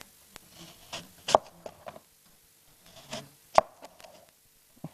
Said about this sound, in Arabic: وراح نقص التفاح